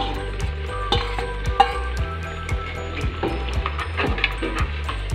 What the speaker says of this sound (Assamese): মছলা আৰু মাংসটো ধুনীয়াকৈ আমি ভাজি ল'ম। এয়া আমি এতিয়া ভাজি আছোঁ দেখিছে